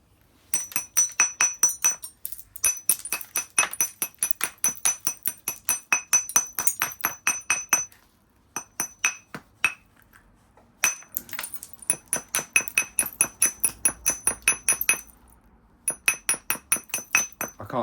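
Sand flint being spalled with copper boppers on a flat old slab: rapid runs of sharp, ringing glassy clinks in steady rhythmic bursts, close and loud, broken by short pauses.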